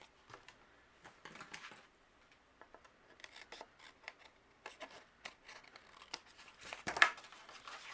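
Scissors trim an overhanging paper strip from a handmade spring greeting card, giving a run of quiet, close snips and papery rustles with no talking.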